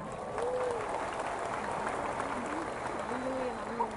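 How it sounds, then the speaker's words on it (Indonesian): An audience at a World Savings Day event with the Indonesian president claps in a steady wash of applause, with voices calling out over it. "Dan juga tepuk tangan buat Pak Jokowi boleh?"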